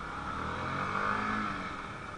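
A Honda CBR150R motorcycle engine revs on a test ride, a sustained steady mid-pitched drone that rises slightly and then holds, close and fairly loud, with wind and road noise mixed in.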